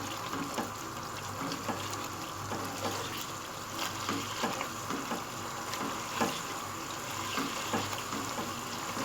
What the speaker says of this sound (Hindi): अब हम इसको भूनते जा रहे हैं।